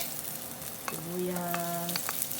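Oil sizzles loudly in a pan while sautéing for adobo, a dense steady frying hiss with a brief tonal squeak midway and a few light scrapes.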